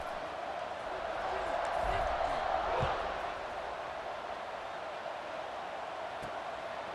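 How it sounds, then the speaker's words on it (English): Stadium crowd in the College Football 26 video game, Vanderbilt versus Missouri, a steady roar that swells for a few seconds and then settles back into a continuous buzz, with a commentator talking over it. "this crowd is buzzing after that last score"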